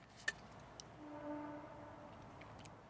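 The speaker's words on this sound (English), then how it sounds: "That's just a train." A train heard far off through woods at a rainy campsite, a faint low rumble with a soft tonal drone swelling briefly near the middle, plus a couple of sharp ticks and clicks close by.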